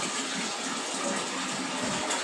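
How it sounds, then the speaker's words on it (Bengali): A bottle being rinsed under running water, a steady close gush and splash with no pauses, no voices. "দেখো একটা বোতল কতক্ষণ ধরে ধুচ্ছি"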